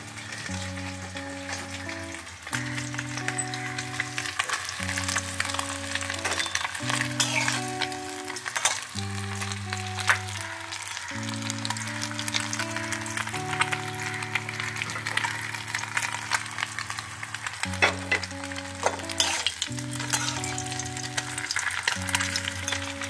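Amodi fish fries in a pan with a continuous close sizzle and crackle of hot oil, steady at moderate level, with music playing over it and no talk.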